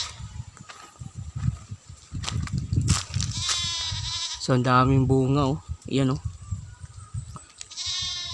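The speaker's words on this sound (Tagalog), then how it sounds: "ang ingay ng kambing" Goats bleat loudly several times in wavering cries, mixed with someone talking and some rustling nearby.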